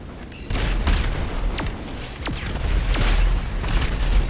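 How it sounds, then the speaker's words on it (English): Distant gunfire in GTA 5, heard as scattered booming shots with a few whooshing passes over a steady rumbling background, with no voices. "Stop shooting at me."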